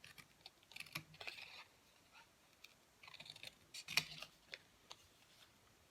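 Scissors cutting through a fabric cap, a series of close, crisp snips and clicks in irregular bursts with short quiet gaps.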